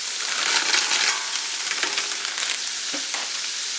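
Diced leeks and celery sizzling in olive oil for vegetable soup as they are stirred, a close bright frying hiss with soft scraping and stirring pulses throughout.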